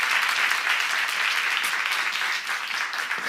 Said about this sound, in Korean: 박수 한번 쳐봐.